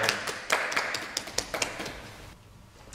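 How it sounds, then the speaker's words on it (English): A church congregation gives a short round of applause at Sunday morning worship: a few scattered, distinct claps that thin out and fade into near quiet by the end. "so a round of applause"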